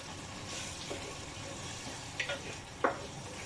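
Pork igado with tomato, water and soy sauce stirred in a pan, a steady low simmering sizzle with a few brief utensil scrapes and clinks near the end.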